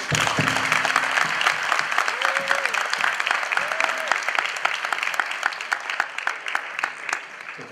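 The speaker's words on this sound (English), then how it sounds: "we'd like to ask for a round of applause" Students at a school music event give a round of applause, continuous crowded clapping that holds steady and then thins slightly, with a few voices calling out beneath it.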